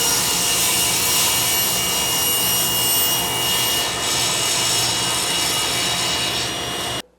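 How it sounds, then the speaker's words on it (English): Reclaimed lumber boards fed through a planer, a loud, steady, dense whirring roar of cutter head on wood that holds continuously for about seven seconds before cutting off abruptly. "They're going through the planer next."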